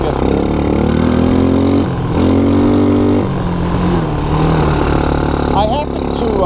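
A Suzuki LT160 ATV engine runs steadily in second gear, a close, continuous mid-pitched drone that dips briefly and shifts pitch slightly, with a faint high whine near the end.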